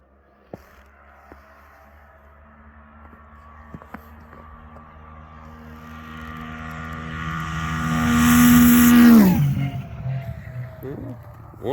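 A race car on a test pass approaches with a rising engine drone that grows loud and high-pitched, then sweeps past in a quick Doppler drop and fades away.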